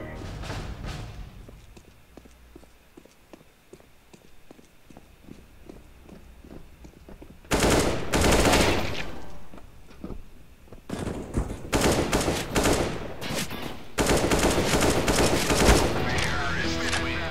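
Rapid bursts of gunfire from a first-person shooter game come in loud dense volleys, with quieter stretches of rhythmic footstep-like clicks between them.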